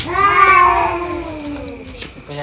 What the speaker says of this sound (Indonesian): Kucing musim kawin.